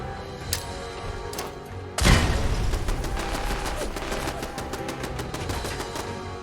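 Rapid automatic gunfire in Fallout 4, a few sharp isolated shots followed by a loud sudden burst and a sustained fusillade of close, regular reports with no speech.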